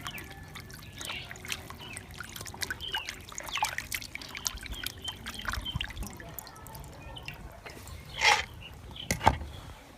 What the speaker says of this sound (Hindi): तो सबसे पहले हम पानी से एक दफ़ा धोएंगे।